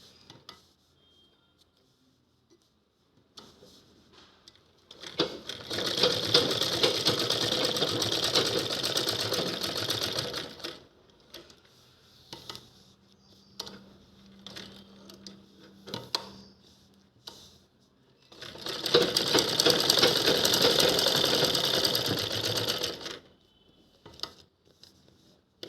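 A sewing machine stitches a table cloth in two long, steady runs of fast mechanical whirring, with quieter handling and clicks in the pause between them and no talk.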